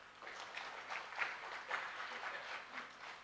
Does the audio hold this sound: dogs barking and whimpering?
no